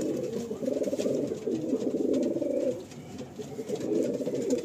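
Prize-winning racing pigeons in a loft in Sonarpur, Kolkata, coo in soft, rolling, overlapping calls that continue almost without pause, fairly close and with no one talking.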